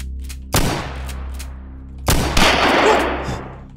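Shotgun blasts in a zombie battle in Minecraft, with two loud, sharp booms about a second and a half apart, each trailing off into a noisy decay and followed by more rumbling gunfire.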